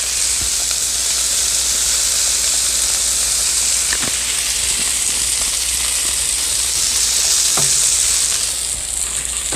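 Sous vide steaks sizzle in ghee on a Blackstone griddle, giving a loud, steady, close frying hiss that runs unbroken throughout, with a few faint pops and ticks over it.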